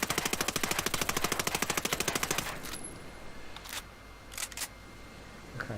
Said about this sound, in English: let's do the test with the suppressor. Single shot.